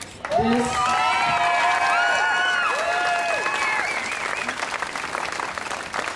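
A crowd at a 2009 Michigan Pride rally claps and cheers loudly, with bright whistles and whoops rising over the steady applause, which carries on for several seconds before easing slightly.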